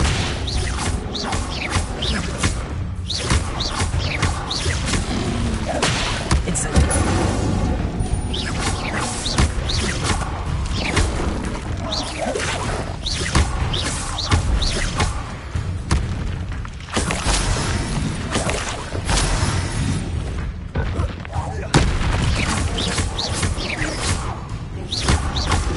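Incendio and Expelliarmus spell effects in Hogwarts Legacy: repeated booming blasts, crackling bursts and clattering impacts follow one another steadily and loudly throughout a long stretch of combat.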